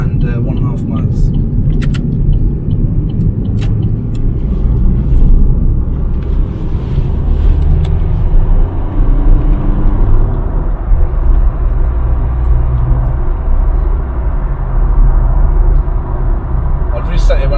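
Steady engine drone and road rumble from a Vauxhall Astra CDTI diesel cruising in 5th gear at 60 mph, loud and constant inside the cabin, continuous throughout.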